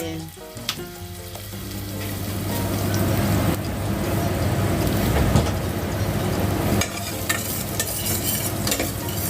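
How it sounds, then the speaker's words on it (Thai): Garlic frying in oil in a pot for a clear Thai pork and cabbage soup, a loud continuous sizzle with occasional clinks and stirring scrapes, close up and alone. "เจียวกระเทียมก่อนเลยนะคะ"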